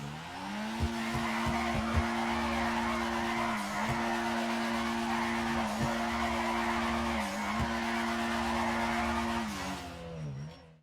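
A car drifts in GTA 5 with a long, sustained tire squeal whose steady pitched whine dips briefly several times as the slide shifts, over a low engine hum, with no talk.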